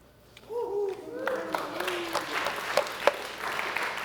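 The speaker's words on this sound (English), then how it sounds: "Now I'm going to stop clapping." An audience breaks into clapping after a quieter opening with a voice, building into a steady patter of hands with a few sharper claps standing out, under continued talk.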